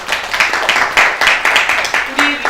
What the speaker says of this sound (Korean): 박수도 한번 칠까요?